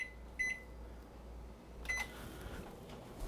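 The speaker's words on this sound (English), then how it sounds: "we're going to microwave this and melt it" A microwave oven hums steadily while melting chocolate and cream, with two short electronic beeps from its panel over the low constant drone.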